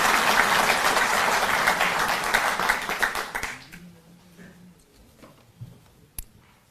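Loud audience clapping at a Delhi government event honouring the chief minister, a dense burst for about three and a half seconds that fades into scattered claps and quiet.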